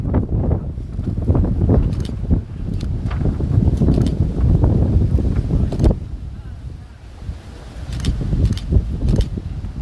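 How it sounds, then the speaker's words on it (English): Outdoor wind gusting into the microphone as a cool breeze, with low rumbling buffets rising and falling throughout, fairly loud and steady, with people talking now and then underneath. "little windy, but it's nice. It's a nice cool breeze."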